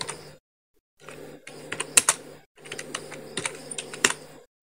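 Keys clatter on a computer keyboard in two quick bursts separated by short pauses, close and crisp, with the clicks rapid and uneven.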